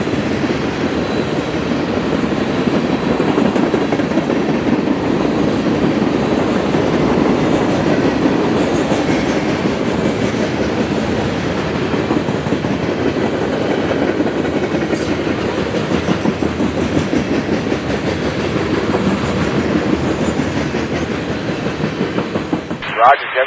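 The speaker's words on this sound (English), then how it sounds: "we have train M404 this morning being pulled by a GE AC4400CW and an ES44AH" A CSX freight train hauled by GE AC4400CW and ES44AH diesel locomotives rumbles past steadily and loudly, with continuous wheel and railcar noise and no clear break, for the whole stretch.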